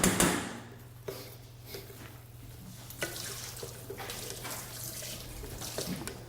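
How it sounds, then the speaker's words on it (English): A kitchen tap runs as a spoon is rinsed after tasting risotto, with a brief loud gush at the start, then a softer steady stream with small clinks and splashes, close by. "Let me wash my spoon"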